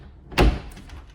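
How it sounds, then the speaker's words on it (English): Closet doors closing over a washer and dryer space in a rental home's upstairs laundry nook, a single close, solid thud with a brief rattle afterward. "it actually closes in very well back behind these doors"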